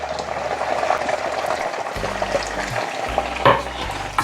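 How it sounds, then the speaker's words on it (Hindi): Two small chopped onions sauté in hot oil in a pan, giving a steady soft sizzle with occasional stirring scrapes and a brief louder clatter near the end. "इसी ऑयल में आपने ये 2 छोटी प्याज जो मैंने चॉप कर ली है इसको थोड़ा सा हमने यहाँ पे सौते कर"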